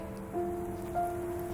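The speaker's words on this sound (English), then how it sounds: "It's hailing." Hail falls outside as a faint, steady patter, distant and soft, with a low tonal hum running underneath.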